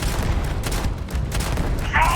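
Sci-fi combat in Starfield carries a dense, rumbling stream of rapid gunfire and booms, continuous and fairly loud, with a brief brighter effect at the very end.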